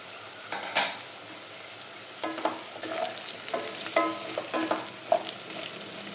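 Potatoes sizzle in a pan for aloo rice while a spoon scrapes and clinks against it in irregular bursts of stirring, close and fairly quiet.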